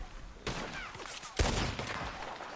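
Gunfire in Red Dead Redemption 2, two sharp close shots followed by rumbling echoes and scattered distant reports, loud and fairly dense.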